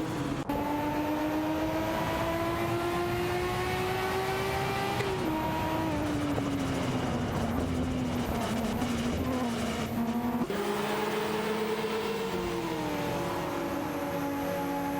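In a racing video game, a Ferrari 288 GTO and a Nissan Skyline GTR R32 run with a steady, whining engine note that rises through the gears, with clear pitch drops at each shift.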